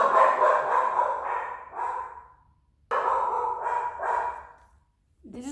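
A dog lets out two long, drawn-out howling barks indoors, each trailing off before a pause, with a third starting at the end.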